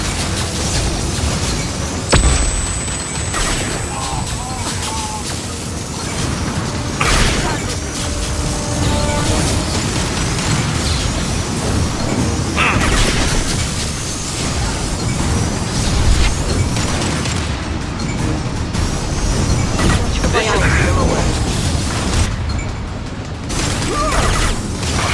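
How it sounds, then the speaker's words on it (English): Flashbang blasts and gunfire ring out in a Mass Effect 2 firefight, with repeated booms and sharp bursts over a dense, continuous wash of combat noise lasting throughout. "Watch out, flashbang!"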